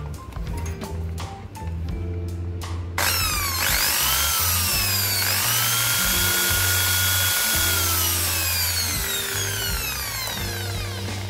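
A Makita hand drill, just fitted with new carbon brushes, is switched on after a few handling knocks and runs steadily with a loud, high motor whine that rises and settles as it spins up.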